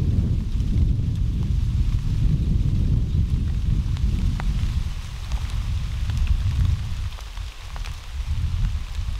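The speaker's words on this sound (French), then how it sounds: "Alors j'ai la pluie qui arrive." Wind-driven rain sweeps in outdoors as a dense, steady roar of drops and gusty buffeting close to the microphone, easing briefly before building again, with no voices over it.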